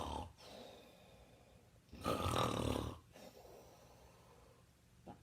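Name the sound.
storyteller imitating snoring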